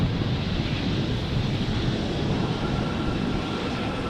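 A SkyTeam-liveried airliner landing at high speed on runway 18R at Amsterdam Schiphol, heard as a steady broadband roar with wind buffeting the microphone, continuous and fairly loud with no voices.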